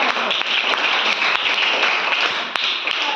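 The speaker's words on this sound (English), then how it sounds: "Give her a clap." A classroom audience gives a student a dense, steady round of clapping during an oral examination, many hands close together and fairly loud, with no talk over it.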